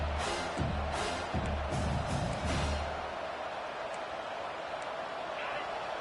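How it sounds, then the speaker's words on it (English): Stadium crowd roaring at a football game as the defense tries to keep the offense pinned deep, a steady broad wash of cheering, distant and even throughout, with brief low thumps early on. "The roar of the crowd trying to fuel this defense to keep them pinned in their own end."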